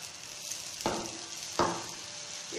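Bread and egg dosa batter hits a hot oiled griddle, with two sharp sizzling bursts that each settle into a steady frying hiss.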